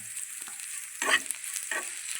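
Ridge gourd vegetable stirred in a pan gives a faint frying hiss broken by a few close scraping bursts of the spatula, short and without talk.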